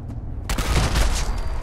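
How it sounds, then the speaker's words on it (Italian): A portable cannon firing in the Fallout 4 video game: a loud burst opens into a dense, rumbling blast that fills the whole clip, heavy and close with a long booming tail. "andare in giro con un cannone portatile che spara e ammazzare tutti con quello"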